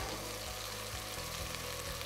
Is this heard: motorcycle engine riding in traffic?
no